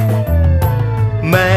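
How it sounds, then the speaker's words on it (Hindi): Animated fire engine siren wailing in a cartoon setting, a loud, close, rising and falling tone repeating in quick cycles with no talk. "हे दमकल गाड़ी, आप इतना तेजी से कहाँ जा रहे हैं?"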